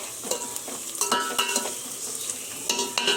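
Green chillies sizzle loudly in hot oil for biryani, with a steady crackling fry broken by repeated scraping stirs of a spoon against the pan, close up and with no voices.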